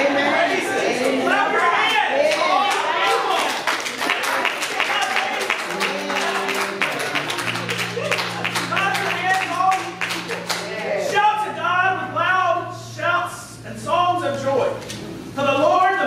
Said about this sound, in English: we're already clapping our hands this morning